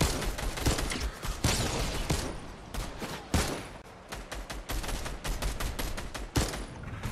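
Rapid bursts of gunfire in Fortnite Reload, loud and dense, with overlapping shots and short automatic volleys crackling almost continuously.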